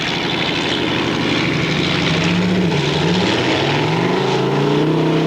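The tractor called Batman making a pull at the 1996 European Tractor Pulling event in Hörby, Sweden, its engine roaring loud and close, the pitch sagging and then climbing again as the throttle goes off and on.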